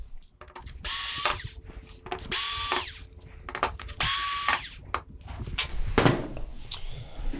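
A power drill backing screws out of a TCL 55S405 TV during disassembly, three bursts of whining motor and ratcheting clutch, each about a second long, separated by pauses with faint handling clatter, close and fairly loud.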